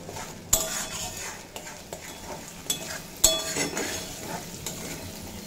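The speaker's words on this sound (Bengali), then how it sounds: "দিয়ে খুব ভালোভাবে ভেজে কষিয়ে নেব, যাতে মশলার কাঁচা গন্ধটা চলে যায়" Ground spice paste fries with potatoes in a pan, a steady sizzle broken by clanks and scrapes of a metal spoon stirring against the pot, heard up close without talk.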